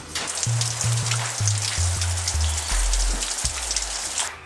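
Steady rain patters down over a surface, a continuous dense hiss with a low droning hum shifting underneath.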